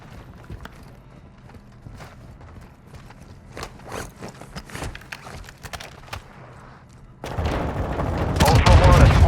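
Gunfire crackles in the video game Call of Duty Modern Warfare II, starting as scattered sharp shots and building into a dense, loud barrage at the end.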